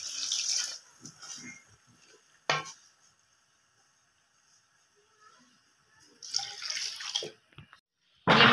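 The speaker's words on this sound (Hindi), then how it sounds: "अब मैं इसमें पानी शामिल करूंगी" Water poured into roasted dal in a pressure cooker, splashing and rushing in short bursts separated by silent gaps, close and moderately loud.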